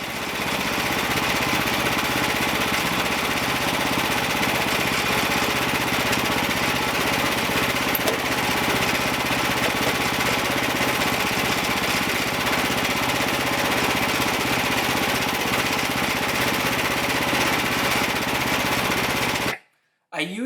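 Frontier OS31 portable sawmill sawing through a 4x4 log, a loud, steady engine roar with a rough, rattling texture that holds almost unbroken for the whole stretch, then cuts off abruptly near the end.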